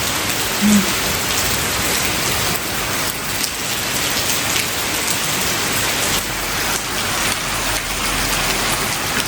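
Heavy night rain in Greece pours down steadily on hard surfaces, a dense, loud, continuous patter close by with no break and no talk.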